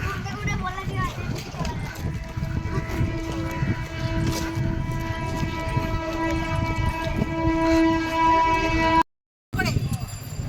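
A train stands at a railway station, with a continuous low rumble and sustained humming tones under people talking nearby, then a brief dropout before the noise resumes.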